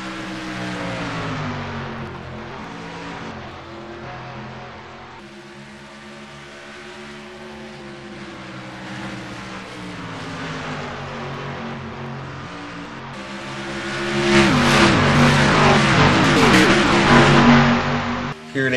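Twenty stock cars roar around the Indianapolis oval during the Brickyard 400, a sustained engine drone with shifting pitch that swells into a loud, close pass near the end.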